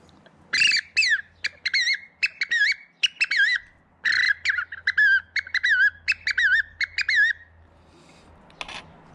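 A flat mouth-blown hunting whistle imitates the varied song of a thrush with quick, bright, chirping phrases in two bursts of notes, close and loud, separated by a brief pause.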